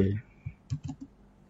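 Keys on a laptop keyboard are pressed in a Ctrl key combination to close an exam browser application, producing a short cluster of soft, quick clicks after a brief moment of voice.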